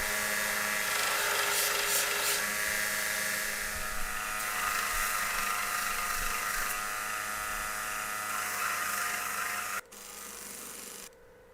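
A blade is polished on a sanding belt, a loud continuous high whine and rasp of abrasive against steel holding steady, then cutting off abruptly before a quieter resumed grind.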